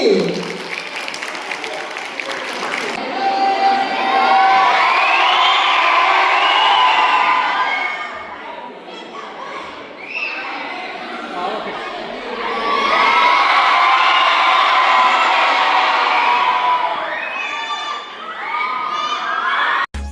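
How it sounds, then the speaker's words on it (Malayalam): Crowd at a retreat closing day breaks into two long waves of cheering and clapping, children shouting and whooping loudly throughout, with a brief lull between the bursts. "അടി കൈയടി."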